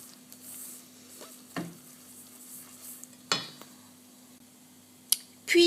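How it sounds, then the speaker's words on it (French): Three whole eggs are mixed into coconut cake batter in a bowl, giving quiet, soft stirring and a few sharp knocks of the utensil against the bowl over a low steady hum. "Je vais rajouter dans ma préparation les 3 œufs entiers et je commence à mélanger."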